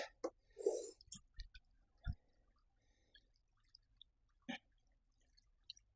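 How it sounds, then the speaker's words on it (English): Water fills a rainwater wick gutter in a greenhouse, heard as sparse, faint drips and small splashes spaced out against a quiet background. "Right, let's fill it with water."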